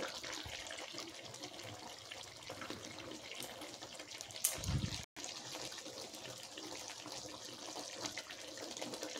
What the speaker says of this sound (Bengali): তো গরম জল দিয়ে দিচ্ছি এখানে পরিমাণ মতন।